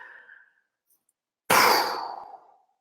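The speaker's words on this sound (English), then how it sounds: "Take a deep breath in." A single deep breath drawn in during a guided meditation: one loud, close, breathy rush that swells suddenly and then tapers off over about a second, with no talking.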